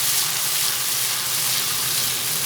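Onions and boiled tomato paste sizzle steadily in a pan while being stirred for spicy red-sauce pasta, a dense, even frying hiss throughout with no voices.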